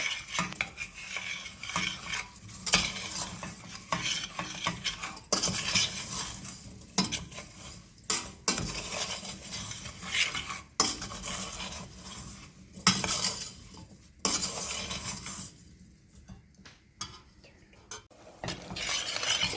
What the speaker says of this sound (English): So I've turned my top of my burner now onto medium, and we're going to stir it up, and we're going to have it start to cook.